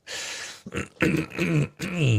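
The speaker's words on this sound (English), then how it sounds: "Give me a second. I got a cough." Several harsh throat-clearing coughs come close together, loud and close, in short rough bursts with brief pauses between them.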